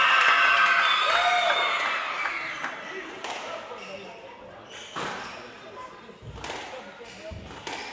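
Crowd cheering and applauding at a professional squash match, a loud roar of voices and clapping that gradually fades, then ball thuds and scattered bursts of applause follow.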